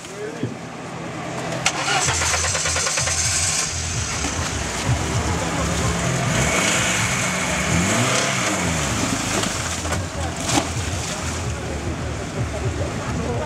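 An IZh Oda 4x4 at a women's off-road trial event drives steadily, its engine droning loud and continuous throughout with rising and falling revs, while voices talk over it.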